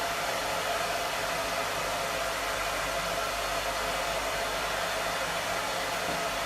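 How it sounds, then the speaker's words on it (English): Hair dryer blowing during grooming of a dog named Oberon, a steady loud broadband whoosh with no voices. "Because the direction the hair dryer is blowing"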